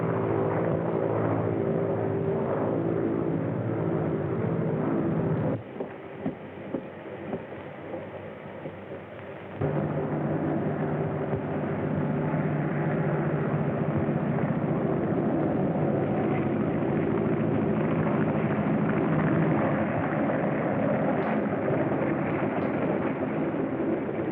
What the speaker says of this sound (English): The engine's stopping. Swing around, Sandy. We're landing.